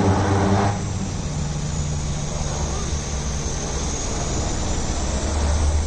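A Tara Air airplane at Lukla airport gives off a steady, loud engine roar and rumble that continues throughout, with a brief louder burst at the start.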